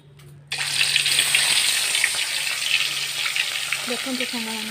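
Marinated fish, rubbed with turmeric and salt, drops into hot oil and bursts into a loud, close, continuous sizzle after a brief quiet start, with a voice faintly at the end.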